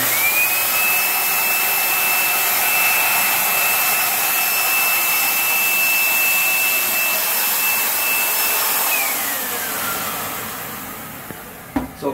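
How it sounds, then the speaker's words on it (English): An electrostatic sprayer mists disinfectant in a loud, steady blowing hiss with a high whining tone that holds for about nine seconds, then glides down and fades as the unit winds off, followed by a few faint clicks. "by just using a mist of small particles with the electrostatic sprayer, it gets onto the surface, it'll stick better"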